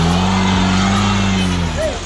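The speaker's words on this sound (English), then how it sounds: "Virgil just kind of aggressively put some throttle in to get up here" Small RC crawler motor revving hard under aggressive throttle while climbing an obstacle during an outdoor crawler challenge after rain, a steady whining drone lasting throughout with a brief pitch sweep near the end.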